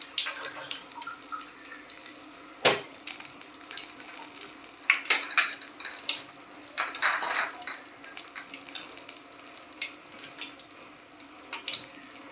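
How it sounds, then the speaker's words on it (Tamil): Raw banana slices coated in gram flour batter sizzle in hot oil for tea-stall style bajji, a steady close crackle broken by sharper spits and occasional clatters as pieces go in. "இப்போ நம்ம ஒவ்வொரு வாழைக்காயாக போட்டு சுட்டு எடுத்துக்கலாம்"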